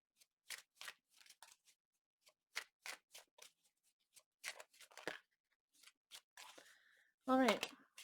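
Tarot cards are shuffled in short, crisp bursts of riffling and sliding, quiet and close, with pauses between them and a louder final flutter.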